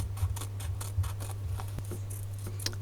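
Scissors snipping through coffee filter paper to cut out small flower and leaf shapes, a series of light, crisp clicks and paper rustles close by, evenly paced over a steady low hum.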